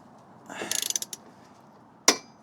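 Quick run of sharp ratchet clicks from a wrench tightening a bolt on an Audi TT Mk2 gearbox mount, a rattling burst followed after a pause by one louder metallic click, close and otherwise quiet.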